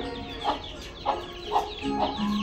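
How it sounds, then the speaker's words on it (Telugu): A village hen with her chicks clucks in a steady series of four or five short, moderately close clucks, spaced about half a second apart over a quiet outdoor background, with no talking. "చూడండి మా కోడికి పిల్లలు"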